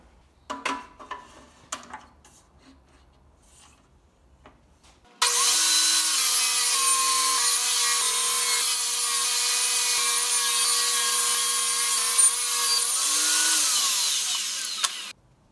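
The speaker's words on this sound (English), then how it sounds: "this blade is terrible and needs to be replaced. But it's still cutting" Oak strips for a cutting board are cut on a saw with a dull blade; after a few light knocks and handling sounds, a loud sustained whine starts suddenly and holds steady with slight pitch shifts as the blade bites, then stops.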